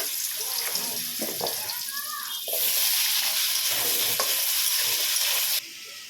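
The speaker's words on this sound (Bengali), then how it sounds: "এবার আমি আলুটা ভেজে নিচ্ছি।" Potatoes fry in a pan with a steady hiss that grows louder midway, mixed with stirring scrapes and watery crackle, close and fairly loud before easing off at the end.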